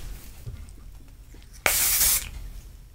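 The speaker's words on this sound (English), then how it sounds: "I'm going to actually use this. This is a really nice aerosol." An aerosol hairspray can fires a single loud, steady hiss lasting about half a second onto a synthetic wig, following a quieter stretch of faint handling.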